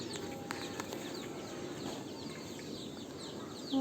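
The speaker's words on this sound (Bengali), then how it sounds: "এটা একটা মুরগির ঘর, এখানে আমরা মুরগি পুষি।" Chickens in a village coop give soft, scattered clucks over a steady rural background hiss, with a brief flutter of wings near the end.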